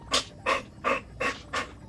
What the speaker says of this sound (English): Hear him just panting away.